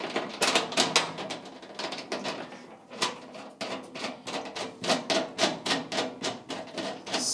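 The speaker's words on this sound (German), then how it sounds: "Und jetzt muss man von dieser Abstandhalter hier reinmachen. Mit den Schrauben hier. Machen wir eine rein." Spacer screws being driven into a patio heater during assembly, heard as quick rhythmic ratcheting clicks and tapping strokes in bursts, close and fairly loud, with no talking.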